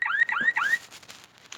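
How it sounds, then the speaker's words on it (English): A car alarm wails in three quick rising electronic sweeps, loud and close, then drops away to faint background noise. "Car alarm."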